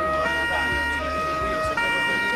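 A wailing emergency siren rises and falls continuously over a short stretch, fairly loud and steady, with voices speaking over it.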